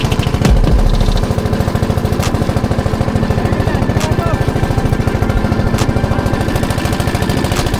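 A fishing boat engine on Tanguar Haor chugs loudly and steadily close by, its rapid rhythmic knocking continuing without pause, with a few faint clicks over it.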